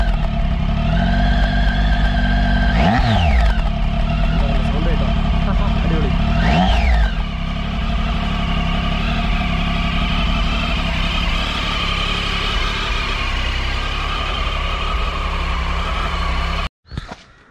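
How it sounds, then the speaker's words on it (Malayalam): A 2017 Triumph Tiger XRx with a fuel-injected three-cylinder BS4 engine idles steadily and close by, its exhaust note rising in two quick revs early on before settling back to an even idle, then cutting off at the end. "മൂന്ന് സിലിണ്ടറാണ് വരുന്ന സൗണ്ട് കേൾക്കണം"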